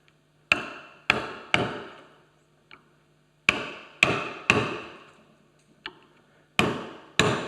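A wood chisel struck by a mallet chops out mortise waste while a joiner's mallet is being made: about ten sharp, close, dry knocks in uneven groups, with quiet pauses and lighter taps between.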